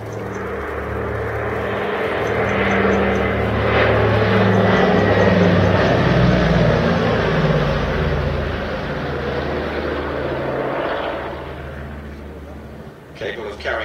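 A Consolidated PBY-5A Catalina patrol aircraft drones past on its propeller engines, a loud, steady roar that swells and then eases away, with someone talking over it.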